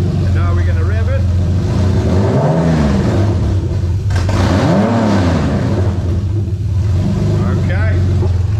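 A 1JZ-GTE VVT-i engine in an IS200 revs up and drops back twice, a loud throaty rumble rising in pitch and falling again, close by and steady throughout.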